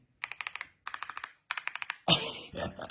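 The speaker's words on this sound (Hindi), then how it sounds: "इसकी मैं अगर आप लोगों को आवाज़ सुनाऊँ ना, आप लोगों को मज़ा आ जाएगा, नॉर्मल कीबोर्ड्स की तरह नहीं है।" Keys of a new gaming keyboard clack in three quick bursts of five or six presses each, crisp and close, followed by a louder rustle or handling sound on a desk.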